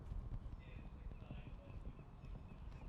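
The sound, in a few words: horse galloping in show jumping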